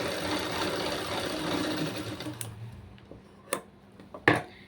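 A sewing machine stitching computer embroidery work runs in a fast, even whir, then stops, followed by a few sharp clicks and handling knocks.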